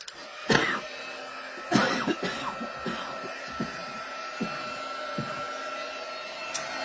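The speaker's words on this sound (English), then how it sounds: "Pull our embossing gun." An embossing heat gun blows a steady, airy hiss that runs throughout at moderate level, broken by a few brief knocks and a cough-like sound.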